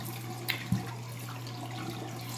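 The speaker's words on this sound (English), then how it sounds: "Okay, then I just rinse my hands." Tap water running steadily into a bathroom sink while hands are rinsed, with a soft continuous hiss, a couple of brief splashes near the start, close and alone without talk.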